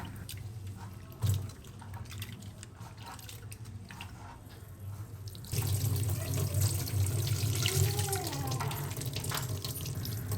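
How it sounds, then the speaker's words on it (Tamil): Half a kilogram of prawns being washed under a running kitchen tap, with water splashing and trickling, a brief knock near the start, then a stronger, fuller stream of running water. "1/2 kg இறாலை எடுத்து நல்லா வாஷ் பண்ணி வச்சுக்கிறோம்."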